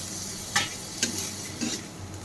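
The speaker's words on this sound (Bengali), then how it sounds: "এবার আমি এর মধ্যে আগে থাকতে সেদ্ধ করে রাখা এই শুকনো লঙ্কা আর শাকটাকে দিয়ে ভালো করে নেড়ে নেব" Greens boiled beforehand and dried red chillies stirred into onion and garlic frying in a pan, with a steady oily sizzle and three sharp scraping strokes of a spoon against the metal, close and clear.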